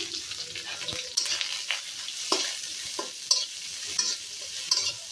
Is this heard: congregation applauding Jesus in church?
no